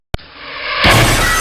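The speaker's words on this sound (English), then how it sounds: "And it smashed into pieces on the floor" A deflector shield prop smashes to pieces on the floor in a comedy blooper scene: a sharp shattering impact, then a loud wash of breaking debris that swells and carries on to the end.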